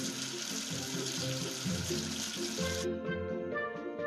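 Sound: water rinsing soap off at a tap

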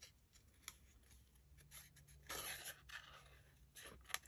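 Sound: scissors cutting paper

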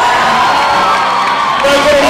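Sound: basketball crowd cheering during team introductions

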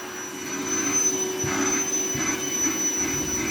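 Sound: vacuum cleaner sweeping the house

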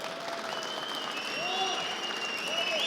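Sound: applause at a tractor auction at Konya fair

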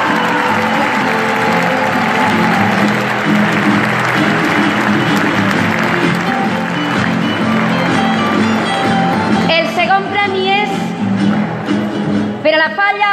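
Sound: loud audience applause

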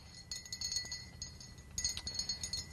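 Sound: spoon stirring hot cider drink in a glass

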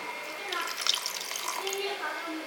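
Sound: water poured into mixer jar

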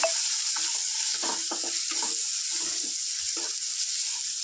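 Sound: potatoes and chana dal frying in a pan

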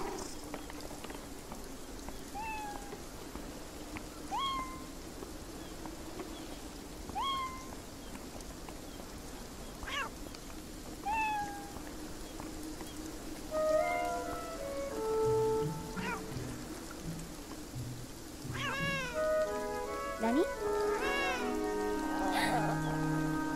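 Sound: cats meowing in the video game Beyond Eyes

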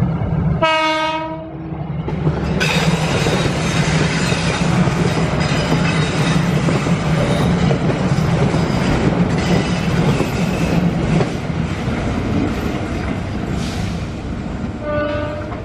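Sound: freight train passing at a station crossing

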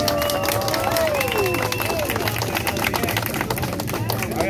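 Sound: audience applause voting in a dance battle

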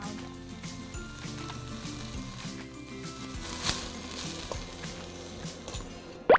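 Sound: stir-frying mushroom japchae in a pan

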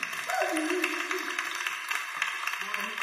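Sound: audience clapping

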